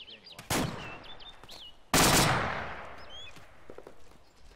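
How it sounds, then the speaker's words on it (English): Gunfire in the Arma military video game: two loud, sharp shots about a second and a half apart, the second followed by a long rolling echo that fades over a couple of seconds, with faint radio-style chatter around them. "There's more fire coming from the east, southeast"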